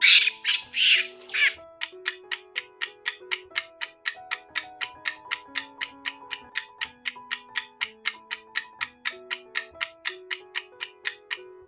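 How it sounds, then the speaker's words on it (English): A monkey gives a few loud shrill screeching calls close up, followed by a long run of regular clock-like ticks, with no speech. "This is monkey."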